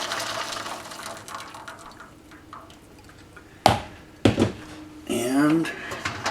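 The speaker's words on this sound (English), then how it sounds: "We'll pour the boiling water into the pan." Boiling water is poured into a pan in a home kitchen, giving two short splashy bursts and then a steady gurgling fill whose pitch rises as the pan fills, heard up close.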